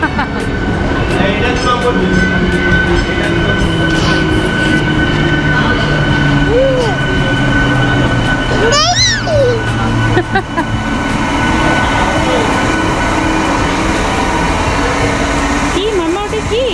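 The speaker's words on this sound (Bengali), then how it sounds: "ঠিক অপোজিট সাইড থেকেই ট্রেন যাচ্ছে" A train passes on the opposite track at a station in Uluberia, a loud, steady rumble with brief squeals of wheels, while people talk nearby.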